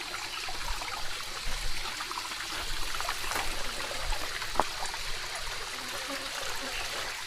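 Mountain spring water flows steadily in a natural stream, a continuous close trickling and rushing wash with no talk over it.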